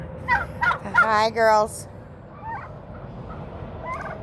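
Turkeys gobbling nearby in a yard, a loud rapid burst of gobbles followed by quieter scattered clucks, with a person briefly speaking over the start.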